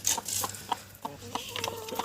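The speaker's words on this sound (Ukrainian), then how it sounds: "О, квочка!" A broody hen clucks in short repeated bursts at close range, with soft scratching and patter around her in a farmyard.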